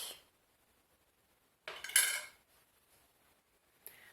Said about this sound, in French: maintenant je vais mettre tout ça dans un plat